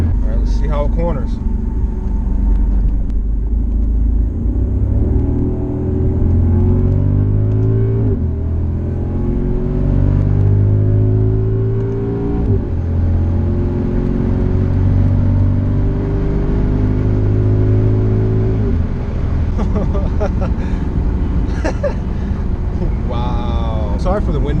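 A Mercedes CL63 AMG heard from inside while cornering, a deep engine note rising and falling through the gears, with heavy wind noise and a voice talking over it.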